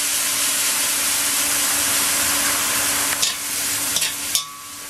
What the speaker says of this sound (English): And I'll just quickly toss this broccoli back and forth.